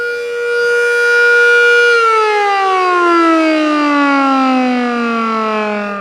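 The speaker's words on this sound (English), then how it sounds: "Just a 30-second siren test." A loud fire department civil defense siren wails steadily during a test, then its pitch slowly winds down over several seconds, with no voices present.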